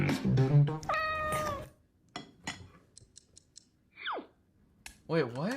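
A cat meows with a clear, drawn-out harmonic call near the start, followed by scattered clicks and a short rising squeak, then another wavering meow at the end, all close and fairly loud.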